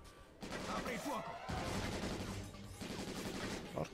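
Gunfire in the video game Syphon Filter: Dark Mirror on PS5, dense and continuous bursts of shots filling the whole clip at steady loudness.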